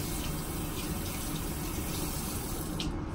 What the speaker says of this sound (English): So I'm just going to wet it.